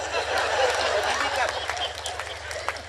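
Applause breaks out from the audience at a Hindi kavi sammelan poetry recital, a crowd clapping steadily with some laughter and voices mixed in, over a low steady hum.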